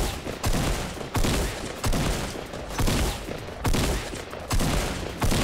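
Gunfire in the Fortnite battle royale video game: about six loud, rapid bursts of shots follow one another with brief gaps between them, and no voices are heard over them.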